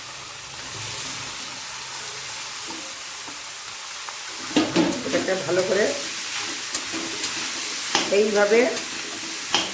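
Carrots sizzle in hot ghee for gajar halwa, starting as a faint background hiss and then crackling loudly in rhythmic bursts as they are stirred in the pan, while a person talks briefly.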